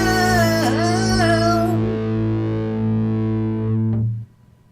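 Two distorted electric guitars play a twin harmony line, sustained and gliding together, loud and close, then cutting off near the end with no talk.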